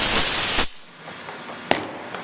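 Compressed air blasts into a re-drilled fastener hole in the bottom plank of a 1953 Shepherd Sportsman wooden boat, a loud hiss lasting just over half a second before cutting off, followed by a sharp tap.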